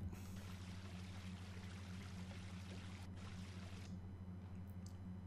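Water poured in the sandbox video game The Sandbox, a steady synthetic pouring and trickling wash that runs continuously at moderate level with a low mechanical hum beneath, easing slightly near the end.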